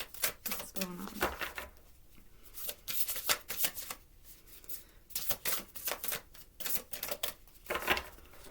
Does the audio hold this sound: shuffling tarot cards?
yes